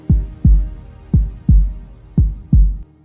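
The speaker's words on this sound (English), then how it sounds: "A heartbeat, human, fragile, alive." Close, deep heartbeat thumps in regular pairs, three lub-dub beats in a steady rhythm, loud and isolated with no other sound.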